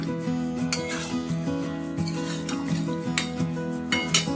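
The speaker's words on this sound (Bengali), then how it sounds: "গরম মশলা দিয়ে দিলাম, দিয়ে একটু নেড়ে নিচ্ছি" Soya chunk curry stirred in a pan after garam masala goes in, with steady scraping and clinks of a spoon against the metal over a low background hum, no talk.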